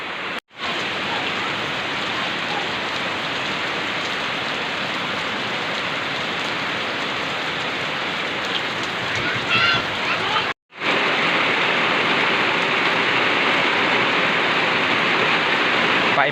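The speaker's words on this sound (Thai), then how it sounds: "ยังฝนตกอยู่" Heavy rain pours down over a rice harvest in a dense, continuous hiss, loud and close, broken by two brief cuts in the sound.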